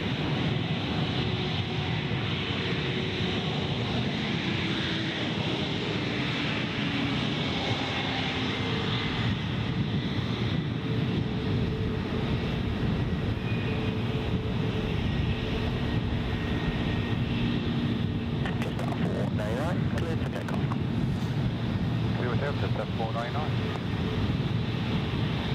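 An airliner engine roars continuously at Gold Coast Airport, a broad, steady rumble with wind buffeting the microphone and people chatting over it.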